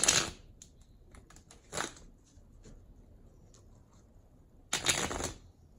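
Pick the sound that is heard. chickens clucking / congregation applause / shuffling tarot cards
shuffling tarot cards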